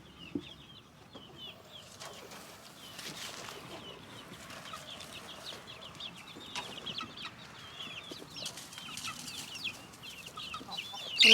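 Chickens cluck softly in a hen house during morning chores, with scattered quiet clucks, rustling and a wing flap or two. The sounds build slightly louder toward the end.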